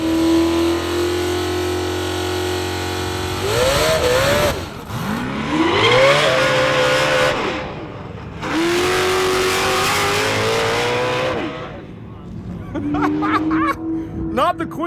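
A carbon-bodied Corvette C6 Z06 roars through repeated hard acceleration pulls on a half-mile drag run in Dubai, the engine note climbing and dropping through gear changes, loud and near, with voices and laughter mixed in.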